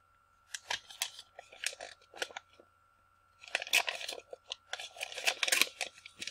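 Paper tearing and crinkling as a tightly packed mailed envelope is opened by hand, with a nested inner envelope; close, bursty rustles and rips in two clusters separated by a short pause, no talking.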